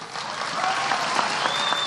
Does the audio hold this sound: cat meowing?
no